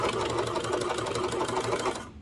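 A sewing machine stitches a kids' pajama raglan top, giving a loud, close, steady mechanical whir and rapid needle clatter that runs continuously before cutting off abruptly at the end.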